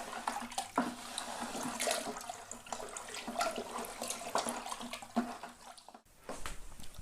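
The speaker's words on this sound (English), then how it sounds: "giving it a good stir, make sure that all of that sugar is dissolved into this liquid" Brewing sugar gets stirred into blackcurrant wine liquid, a continuous watery swishing and sloshing close by that stops abruptly near the end.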